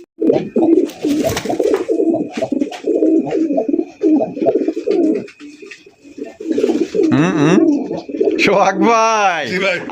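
Pedigree pigeons kept in pairs with eggs and chicks coo repeatedly up close, rolling throaty calls in rhythmic bursts, with a person's voice mixed in near the end.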